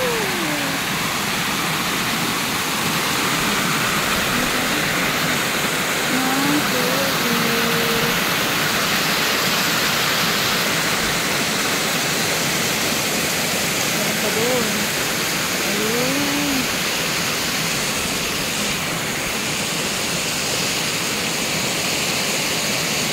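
Dara Falls roars in a steady, loud rush of falling water that fills the whole stretch, with voices talking faintly underneath.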